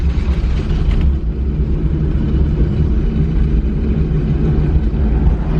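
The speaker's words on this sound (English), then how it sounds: "I'm riding on the rim." A car driving on a bare wheel rim with no tire gives a heavy continuous low rumble and grinding drone with steady engine noise, loud and close throughout, no talking.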